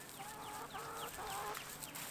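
Chickens cluck in a coop lined with hay, a rooster among them, in a steady faint chatter of short repeated calls heard from a little distance with no talk.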